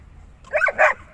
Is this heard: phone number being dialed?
no